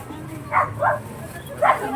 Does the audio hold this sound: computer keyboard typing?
no